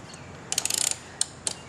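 An Allen socket ratchet clicks rapidly as 8mm fork caliper bolts on a Victory motorcycle are loosened, a quick burst of ratchet ticks followed by two isolated clicks, close and clear.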